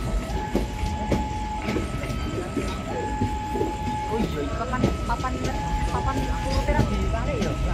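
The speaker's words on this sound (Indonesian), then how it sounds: "Rangkaian kereta api Sri Tanjung" A Sri Tanjung passenger train rolls through a station at a steady, continuous rumble with rhythmic wheel clacks and brief tonal squeals, while people talk nearby throughout.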